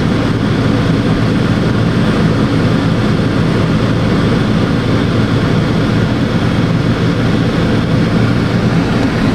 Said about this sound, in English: Our new helicopter.